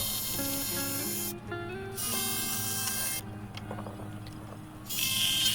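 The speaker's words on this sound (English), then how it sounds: "I just rough cut this with my battery operated jigsaw" A battery-powered Craftsman jigsaw rough-cuts maple for a landing net, giving a steady close buzzing whine with shifting pitch, pausing briefly twice before resuming.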